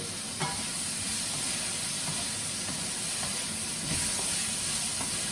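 Garlic and onions sizzle steadily in hot oil in a wok, a continuous broadband frying hiss with faint clinks and stirring scrapes, no talking.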